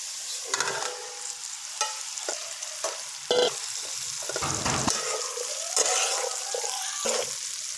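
Okra frying in a turmeric-seasoned pan for a spiced okra and potato dish: a steady close hiss of sizzling oil, broken by scattered clinks and scrapes of stirring.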